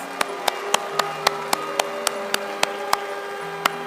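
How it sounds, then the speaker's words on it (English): An audience claps for the Brgie team at a Biafra gathering in Finland, a slow, sparse run of separate sharp claps spaced about a third of a second apart, with no talking over them. "Clap for them, please."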